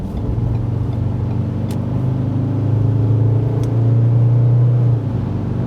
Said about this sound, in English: Acceleration on the Autobahn, 60 kilometers to